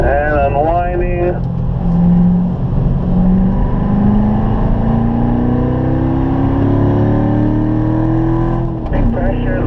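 A Corvette race car at Spring Mountain runs loud and close from inside the cabin, its engine pitch climbing as it downshifts to third under steady power, with an instructor talking over the noise.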